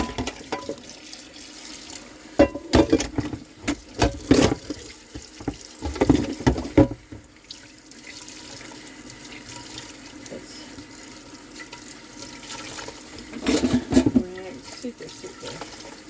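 A kitchen tap runs in a stationary RV as a container is rinsed out, with a steady faint water hiss broken by louder splashing bursts, close by and mostly without clear talk.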